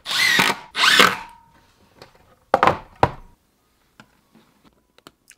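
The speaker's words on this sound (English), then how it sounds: "So I'm going through and laying that out and drilling the holes." A power drill bores holes in a wall to mount an ecobee smart thermostat. Two close, loud bursts of whirring are followed by a pause, a third burst, then a few faint clicks and taps.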